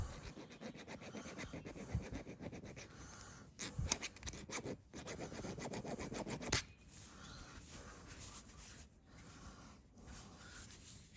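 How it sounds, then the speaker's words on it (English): A small hand file deburring a machined metal part at a lathe, heard as faint, steady rubbing and rasping strokes with a few louder scrapes, close and quiet, with no talking. "Just gonna get that little file again. Just make sure we've got no burrs there."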